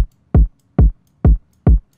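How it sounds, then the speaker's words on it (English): Four punchy kick drum hits in an even rhythm, distorted with a Decapitator plugin, each with a gritty crunch on top of a deep low thump. "take out decapitator or some type of distortion and just kind of crank it"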